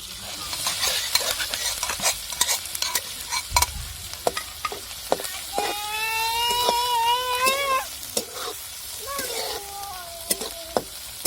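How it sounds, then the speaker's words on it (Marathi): Cumin seeds frying in oil in a kadai, a crackling sizzle under frequent stirring taps and scrapes, with a brief high whining cry-like sound in the background midway. "तेलामध्ये मस्त जिरे टाकून परतून घेतले"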